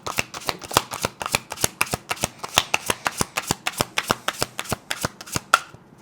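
A deck of cards being shuffled in a rapid string of crisp riffling bursts, about twenty sharp flutters in quick regular rhythm, close and clear with no talk.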